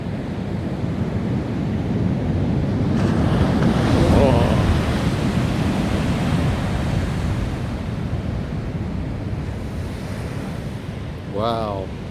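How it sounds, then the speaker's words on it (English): Big ocean waves crash and roar onto the beach on a stormy day, a continuous loud wash of surf swelling and receding, with heavy wind buffeting the microphone throughout. "Ooh, spectacular waves bashing their way in. Ooh, gosh, that's a big old wave."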